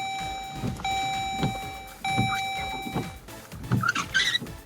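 Windshield wipers on a car sweeping back and forth after the ignition is switched on, brand new blades, making about four rhythmic whooshing passes, each with a faint motor whine. Close by, with no talking.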